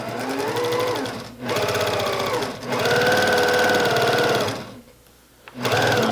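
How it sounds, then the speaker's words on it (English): A sewing machine runs in steady bursts while stitching along the wire edge of a fabric Star Trek mask, loud and close, with a brief pause near the middle and another short stop toward the end. "I'm going to go here real quick and just stitch along the edge of that"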